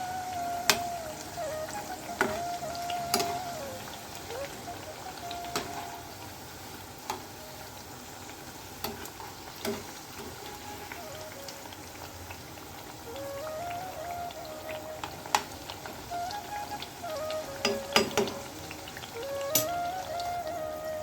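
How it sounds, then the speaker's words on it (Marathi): Colocasia leaf vadas deep-fry in hot oil, a soft continuous bubbling sizzle with scattered crackles and pops, fairly quiet and close, with no talk. "मंदाचर तळले की छान असे खरपूस होते आणि हे आतमधून कच्चे राहत नाही"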